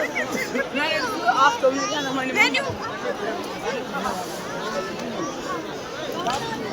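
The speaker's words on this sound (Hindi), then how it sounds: "भीड़ भाड़" Crowd bustle at Ajmer Dargah Sharif on a cold day, a dense, continuous babble of many overlapping voices close around, with scattered louder calls rising out of the hubbub.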